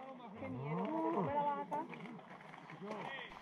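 Several cattle, including bulls, moo close by in an outdoor field, with overlapping low drawn-out calls and a few shorter lows, and soft rustling underneath.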